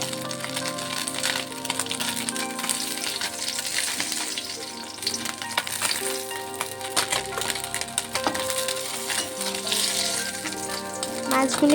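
A batch of small sea moorola fish deep-frying until crisp in mustard oil, a loud, sustained sizzle with crackles and spatters over nearly twelve seconds, uninterrupted by speech.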